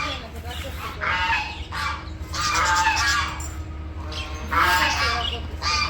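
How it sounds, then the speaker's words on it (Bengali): Village ducks quacking and calling together in the morning, loud, close and in repeated bursts, with people's voices in the background. "আর হাঁসে কি ডাকাডাকি করতেছে"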